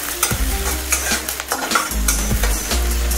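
Chopped ginger and small mild chillies stir-frying in a pan over a high flame, with steady sizzling and repeated scraping strokes of a spatula, close and loud.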